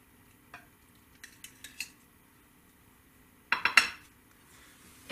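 Cooked pork chops are plated, with a few light clinks of cutlery and dishes, then a brief louder cluster of scraping and clattering near the end.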